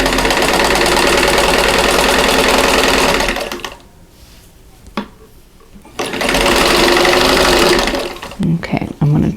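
A sewing machine runs loud and steady, stitching pieces of directional fabric for a Christmas bauble quilt block, pausing briefly mid-way before resuming in long continuous bursts.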